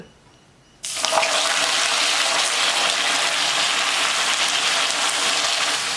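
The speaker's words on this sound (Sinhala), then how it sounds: "මම මෙතන වතුර කෝප්ප එකමාරක් අරන් තියෙනවා. ඒ ටික දාගන්නවා." Cold water poured into hot caramel for semolina toffee gives a sudden loud, broadband hiss and rush. It starts abruptly after a quiet moment and keeps going steady and close for several seconds, with no talking.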